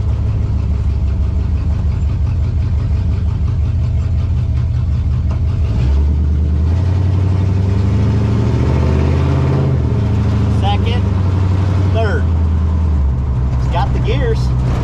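A 1935 Oldsmobile hot rod engine runs at a steady idle with a low, throaty exhaust that swells briefly midway, while someone talks over it throughout.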